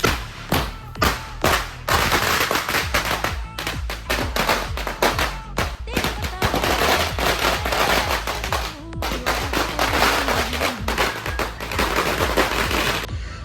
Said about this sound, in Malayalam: അവസാന പടക്കാണ്.